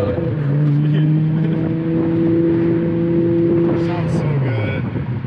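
Modified Volkswagen Jetta engine revving up and holding a loud, droning tone before dropping off, with people talking over it nearby.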